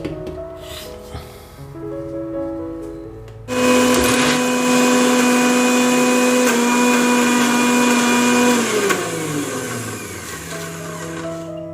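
Mixer grinder blending mint thogayal chutney with added tamarind water: a loud, steady whirring grind that starts abruptly after quieter kitchen sounds, runs for several seconds, then eases down as the motor slows.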